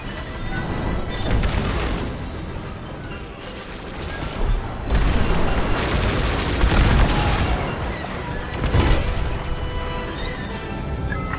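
Starfighter bombers blow up in a Star Wars: Squadrons battle, with dense, loud rumbling blasts and crashes rolling one after another across the whole stretch.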